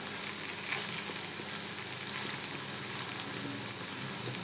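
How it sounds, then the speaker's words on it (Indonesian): Cireng, tapioca fritters, fry in hot oil during a second frying stage, giving a dense, continuous crackling sizzle at a quiet, even level with no voices. "Pada saat menggoreng cireng pada tahap kedua"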